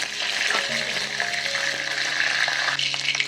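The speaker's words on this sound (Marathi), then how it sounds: "कढीपत्ता थोडासा असा तडतडला" Curry leaves spluttering in hot oil in a kadhai while making a spicy soybean sabji, a steady close crackling sizzle with a few faint tonal clinks, with no talking.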